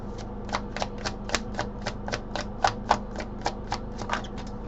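A deck of cards is riffle-shuffled repeatedly in a quiet room, giving a steady run of sharp, close flutters and snaps at an even rhythm, with no talking.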